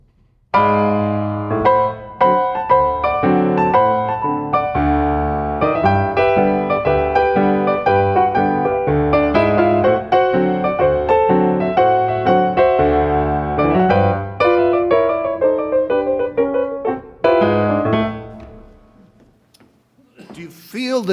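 Heliotrope Bouquet, a ragtime piece, played on solo piano with a swung foxtrot rhythm of dotted sixteenths and thirty-seconds, steady and full for most of the passage, then thinning into a few quieter closing notes.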